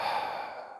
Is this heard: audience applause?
no